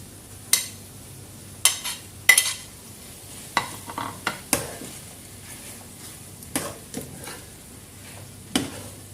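Carrots go into a pan of pancit bato being stir-fried in a home kitchen, giving a steady soft sizzle punctuated by irregular sharp scrapes and clicks of a utensil against the pan, spaced a second or so apart.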